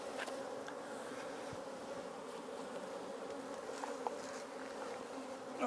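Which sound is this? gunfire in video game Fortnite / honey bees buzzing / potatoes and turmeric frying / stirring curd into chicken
honey bees buzzing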